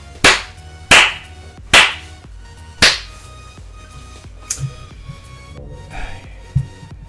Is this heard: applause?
yes